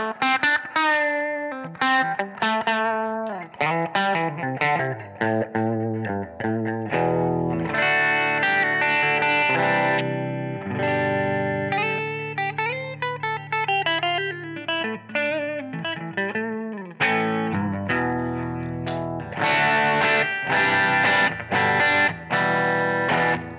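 An electric guitar plays melodic lines and chords through a Hiwatt-style amp model (Line 6 Helix WhoWatt 100) with a shimmering chorus-like effect, steady and upfront with no talking.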